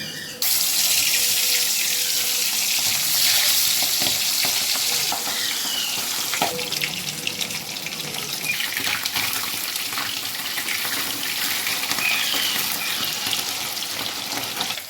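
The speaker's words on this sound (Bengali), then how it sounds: "এবার মাছগুলো এক এক করে ভেজে নিচ্ছি" Pabda fish fry in hot oil, sizzling loudly and continuously, a dense crackling hiss with occasional sharper pops and clinks throughout.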